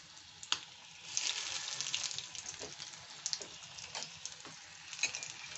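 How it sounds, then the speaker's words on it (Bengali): Cheese fish balls frying in hot oil in a kadai over low to medium heat give a faint, crackling sizzle with scattered pops and a few small clatters. "আমি কড়াইতে তেল দিয়ে দিয়েছি বন্ধুরা, আর আমি এইখানে এই বলগুলো এখন লো টু মিডিয়াম হিটে ভেজে নেব"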